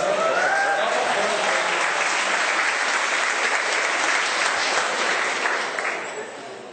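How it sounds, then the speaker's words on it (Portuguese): A church congregation applauding, full and steady clapping that carries on for several seconds before tapering off at the end, with a voice briefly heard at the start. "Agora aplaudir"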